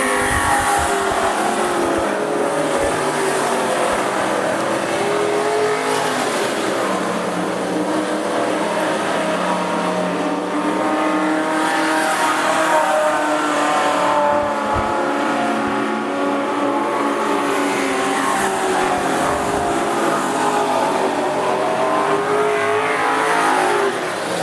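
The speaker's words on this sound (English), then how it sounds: "Mentioned earlier, all 253 Holden V8 engines" Several race cars with 253 Holden V8 engines and HQ Holden front-end components race at Rockhampton Speedway during the AMCA Nationals, giving a loud, continuous engine roar with rising and falling revs throughout and no talking.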